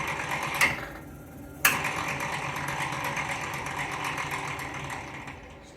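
From the front of a 2020 Chevrolet Tracker EV accelerating in reverse comes rapid, steady clicking over a constant motor whir, with two sharper clicks early on.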